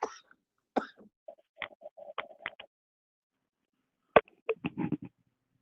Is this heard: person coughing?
yes